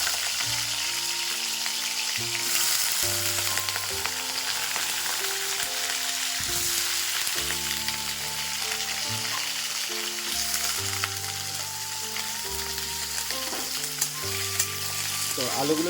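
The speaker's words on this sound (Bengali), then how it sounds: "আর এখন আমি দিয়ে দেবো আলু ভাজা আলুগুলো" Fried potatoes hiss in a hot wok (kadai) with a loud, continuous sizzle and stirring throughout, while a melodic background tune plays underneath.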